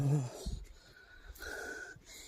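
Heavy, breathy panting after biking and hiking, loud and close with ragged, uneven breaths and snorts.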